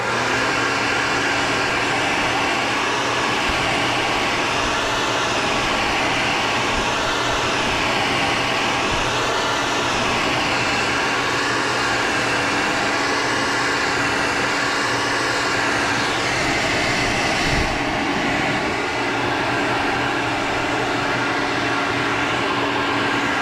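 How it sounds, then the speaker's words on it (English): A heat tool blows steadily for a long stretch while heat setting a craft piece, producing a loud, constant whirring roar with a faint tonal whine and no break. "So we are going to heat set this,"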